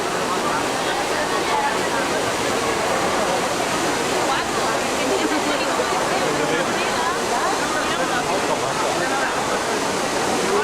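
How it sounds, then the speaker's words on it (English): The Trevi Fountain in Rome sends up a loud, steady rush of falling and splashing water, a dense unbroken roar with no pauses. "Trevi Fountain."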